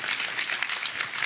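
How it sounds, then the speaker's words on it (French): A congress audience applauds the host association loudly and steadily, a dense, sustained wash of clapping filling the hall without any talk over it. "Applaudissez-les, mais vraiment fort, fort, fort"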